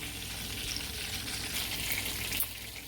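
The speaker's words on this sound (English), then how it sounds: "Okay, so there you have it. My fish is frying." Small fish frying in a pan, a steady crackling sizzle with light pops, moderately quiet and continuous with no talking.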